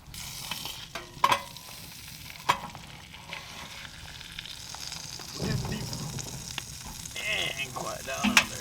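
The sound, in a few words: beanie weenies cooking and sizzling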